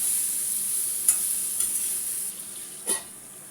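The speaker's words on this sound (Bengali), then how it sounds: "রেডিমেড চানা মশলাটা আমি দিয়ে দিলাম, মশলাটা এবার একটু কষিয়ে নিচ্ছি।" Readymade chana masala spice sautés in a pan, a steady bright sizzle close up, with a couple of soft stirring scrapes and a louder clink near the end.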